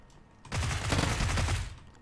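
A grenade explodes in the battle royale game PUBG, making a sudden loud, broad blast that roars for about a second before tailing off.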